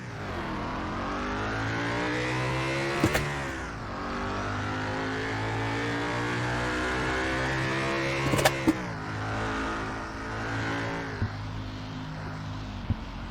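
A car engine in a driving simulator game revs hard on the Nürburgring after a clutch dump, its pitch climbing repeatedly through gear changes with sharp shift clicks, loud and close without talk.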